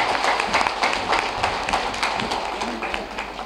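A political gathering's audience claps in welcome for the party's general secretary, a dense, steady round of applause from many hands throughout, fairly close and without speech.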